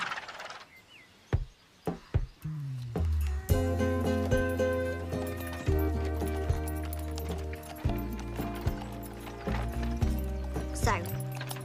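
A grey horse's hooves clip-clop along a road at a steady walking pace, mixed in with music that swells and carries through the whole stretch.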